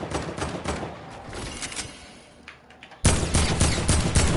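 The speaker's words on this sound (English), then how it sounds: "Who the fuck is shooting?" Rapid video game gunfire crackles in dense bursts throughout, dropping briefly before a louder volley of shots kicks in near the end, with no talking over it.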